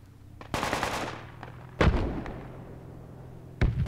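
Suppressing gunfire from a Project Reality firefight on the Karez map comes as loud bursts with long echoing tails, with three heavy volleys spaced over a few seconds.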